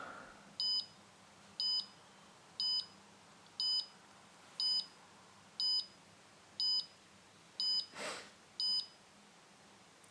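A homemade garage burglar alarm built on an Arduino Nano or Pi Pico beeps while arming, giving evenly spaced short electronic beeps about once a second, ten in all, clear over a quiet room with a soft thump near the end.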